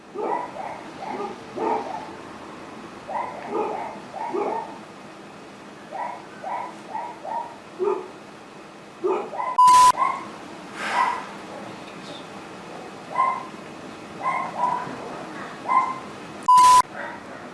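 A dog barks repeatedly in short bursts of yips and woofs, moderately close, with brief electronic beeps cutting in twice.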